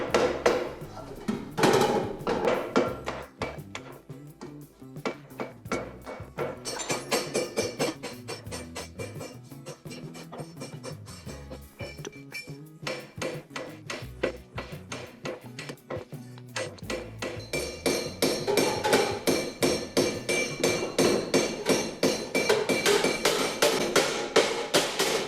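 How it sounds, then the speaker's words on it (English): A wooden mallet beats folds into a copper sheet, giving rapid, dense, continuous knocks that keep up throughout and grow slightly louder toward the end. "the folds are refined with a wooden mallet to achieve the required tightness and structural stability"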